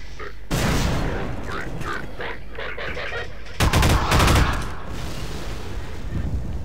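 Gunfire in the video game Half-Life 2: Lost Coast, a loud burst of several rapid shots near the middle over a steady ambient game bed, with a voice speaking briefly before it.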